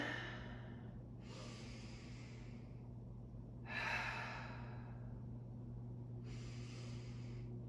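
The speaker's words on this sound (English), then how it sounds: "And then take some really big breaths here." Three slow, deep breaths during a seated energy routine, each a long airy rush of inhaling or exhaling with quiet pauses between, close to the microphone over a low steady hum.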